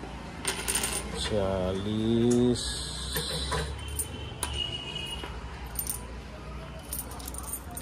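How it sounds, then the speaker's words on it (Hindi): Loose coins poured and jingling in a pile of change at home, a bright metallic clatter that runs steadily through the scene, close and fairly loud, with someone talking over it. "और ये सारी चिल्लर यहाँ रखी है"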